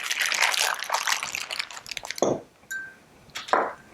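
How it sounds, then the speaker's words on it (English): Marinade is poured into a gallon plastic bag holding a London broil, close liquid splashing and gurgling with plops, clinks and crinkling bag sounds, in bursts with short pauses. "And pour that marinade all in there."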